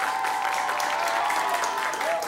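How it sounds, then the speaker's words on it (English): A studio audience at a high school quiz competition applauds both teams, a loud, continuous crowd clapping that holds steady from start to finish, with a faint tone running beneath it. "Big round of applause"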